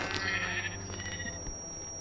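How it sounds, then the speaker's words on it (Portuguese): Minecraft sheep bleating in a video game, a couple of wavering nasal bleats up close at the start, then quieter game ambience with a faint tone underneath. "Duas ovelhas!"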